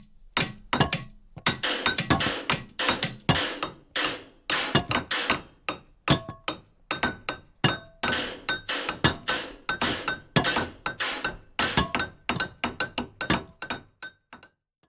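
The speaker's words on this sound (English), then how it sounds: "Chapter 3. The Persistent Digging and Hammering." Hammer blows and digging strikes land against an iron wall in a rapid, uneven series of sharp metallic impacts that carries on steadily throughout. Each strike rings briefly, and there is no speech.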